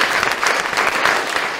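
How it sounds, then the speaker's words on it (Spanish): A studio audience bursts into steady, dense applause to welcome a guest on a Spanish-language Borges special, loud and close, continuing evenly with no voices over it. "Un aplauso, por favor"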